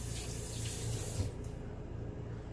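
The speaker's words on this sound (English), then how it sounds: "let me rinse my hand very quickly" Water runs steadily from a tap while a hand is rinsed under it during home bread making, a continuous close splashing hiss with no talking.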